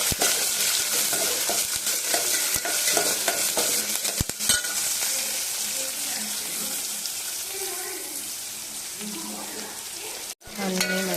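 Sliced onions sizzle in hot oil for poha upma while a spoon stirs and scrapes the pan in an irregular rhythm. A few sharp clinks stand out, and a brief dip comes near the end. The sound is close and steady, with no voices.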